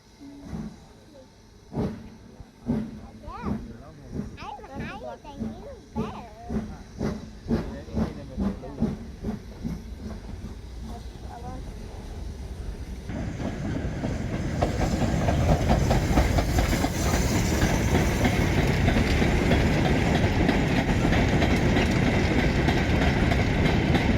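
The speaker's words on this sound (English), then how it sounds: "The action continued, with a brace of freight workings clanking steadily through," Freight trains clank steadily past on a heritage steam railway at an autumn gala, first as a rhythmic series of wagon clunks and clicks over the rails, then swelling into a loud, continuous rushing roar and hiss as the train draws near.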